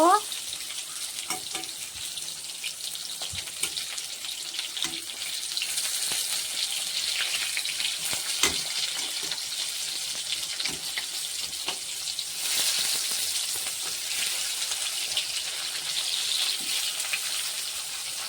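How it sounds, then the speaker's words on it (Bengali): Ground sesame paste fries in a pan with a steady hiss and crackle, turned over now and then with soft scraping knocks, close by and fairly quiet. "এপিট ওপিট করে ভালো করে একটু ভেজে নেব"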